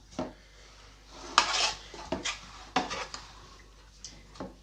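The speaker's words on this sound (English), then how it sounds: "I'm gonna press evenly with a spoon" A spoon presses a vegan cheesecake base evenly into the bottom of a cake tin, making intermittent close scrapes, taps and gritty rubs separated by short pauses.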